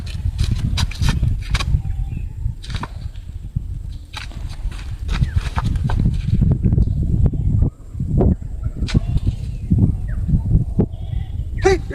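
A goat in a village bleats repeatedly and loudly, close by, amid rustling, shuffling movement and other background activity.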